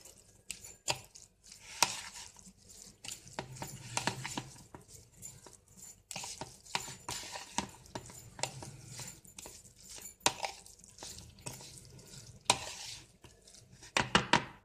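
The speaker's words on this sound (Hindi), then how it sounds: "मिक्स कर लेंगे अच्छी तरीके से" Chicken noodle mixture mixed in a bowl with chilli sauce, giving soft irregular scraping and clinking of utensil against dish, with scattered sharper taps across a steady low rustle; no voices.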